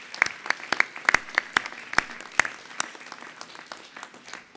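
Audience clapping at a summer graduation ceremony, with sharp individual claps in an uneven rhythm that thin out gradually and carry no speech over them.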